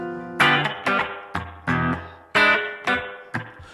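Electric guitar played through a BOSS GT1000 into a Mackie ProFX12v3, strummed in a series of ringing chords with reverb tails, several distinct strums spaced about half a second apart, no voices.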